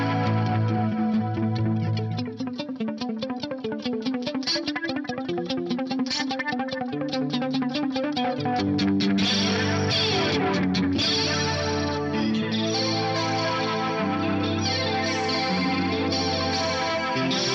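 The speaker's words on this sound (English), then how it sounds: "As you bring it up, it gets more flangey, because I guess that's what a flanger does." An electric guitar runs through a flanger modulation pedal as the feedback is raised, with strummed and picked notes taking on a swirling, sweeping, increasingly jet-like wash, played alone without talking.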